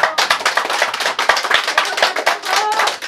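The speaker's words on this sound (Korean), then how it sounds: "자, 그러면 또 박수!" Audience members at a press conference for a People Power Party leadership candidate clap briskly and loudly, with close, dense hand claps and a few sharper individual claps standing out across the short burst.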